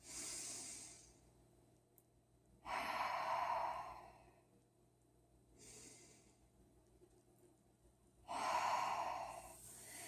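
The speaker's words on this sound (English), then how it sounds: "So 2 more nice deep breaths." Slow, deep ujjayi yoga breathing during a practice session, several long audible breath cycles with soft inhales and stronger, hissing exhales, close and alone with no talking.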